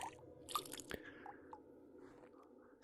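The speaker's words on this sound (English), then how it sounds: "Splashy water." Cave water in the VR game Cave Crave, set in a recreation of the Nutty Putty cave: soft, scattered drips and small wet splashes echo faintly in a quiet space, with no one talking.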